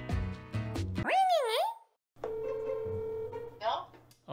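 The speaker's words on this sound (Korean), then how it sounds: "야 은별아 간단한 인터뷰를 잠깐 하려고 전화를 했어요" A phone call is dialed: a run of short electronic tones gives way to a swooping warble, a brief silence, then a long steady tone ending in another rising burst.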